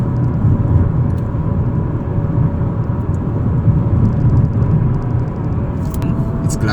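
A 2020 Chevy Impala LT gliding along after overtaking a van, with a steady low road and engine rumble throughout while someone talks over it.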